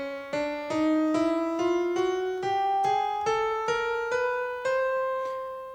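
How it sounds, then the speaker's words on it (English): A piano plays a chromatic scale upward from middle C to the next C, about thirteen clear single notes struck at an even, moderate pace, each ringing briefly, with no talking. "this is playing all the notes from one C to the next that do exist on a piano"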